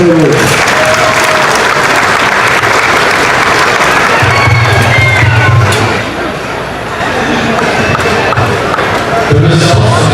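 A large crowd at a county fair event center gives loud, sustained applause, dense and continuous throughout, with some cheering, low thumps and talking mixed in.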